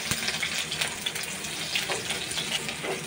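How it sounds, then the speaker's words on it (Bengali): Chopped garlic and onion frying in oil in a pan for noodles, giving a steady, close sizzle with small crackles throughout and no talking. "পেঁয়াজটা হালকা ভেজে নিব, ব্রাউন কালার করব না"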